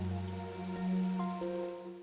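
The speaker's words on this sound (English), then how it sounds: "A city where it's always raining." Steady rain falls in the video game Rain Code, a soft, even patter running underneath sustained, humming musical tones for the whole stretch.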